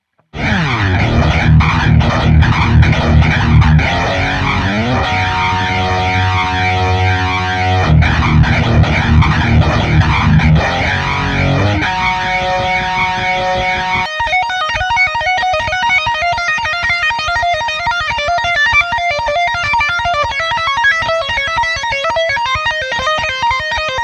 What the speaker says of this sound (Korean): 개인을 걸고 플랜저를 걸면 이런 소리가 납니다